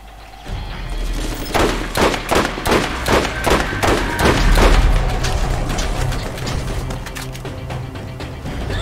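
A quick string of loud gunshots in the shooter game Borderlands, about a dozen cracks in close succession with a low boom near the middle, then lingering rumble and mechanical noise, with no voices.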